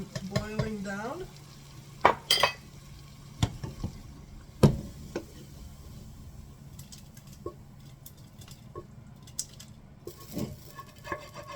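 A spoon scrapes and knocks against a pot as a thick tomato spaghetti sauce mixture is stirred, with irregular clatters and a soft wet churning underneath.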